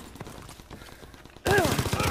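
Gunfire in the multiplayer shooter Call of Duty WW2, scattered muffled shots at first, then a sudden loud burst of rapid fire near the end, with a voice briefly audible in the mix.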